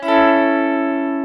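A single electric guitar chord struck once and left ringing, its full, bright tone sustaining loudly and fading only slightly, with no other sounds.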